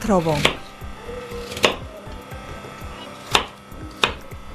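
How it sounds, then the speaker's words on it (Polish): A knife chops peeled apples into thick cubes on a cutting board, producing a few distinct sharp knocks spaced apart over softer scraping and slicing, close and clear without speech. "Jabłka obieramy, usuwamy gniazda nasienne i kroimy w dość grubą kostkę, tak 2-3 cm."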